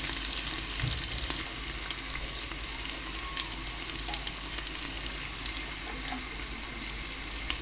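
Chopped onion frying in a pan, a faint, steady sizzle with occasional light stirring clicks, heard at a distance in a quiet kitchen.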